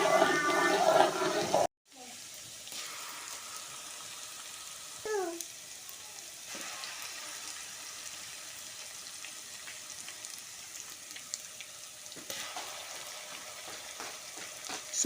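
Egusi seeds and locust beans frying in oil in a pot, a soft steady sizzle that runs throughout after a sharp cut near the start, with brief scraping touches of stirring.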